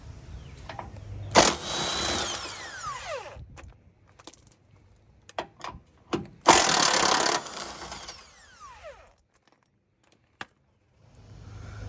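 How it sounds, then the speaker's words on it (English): Bolts come out of a Jeep JK skid plate, heard as two bursts of loud power-tool whirring a few seconds apart, with scattered metallic clicks and rattles in the quiet gaps between them. "I am going to remove these two bolts here"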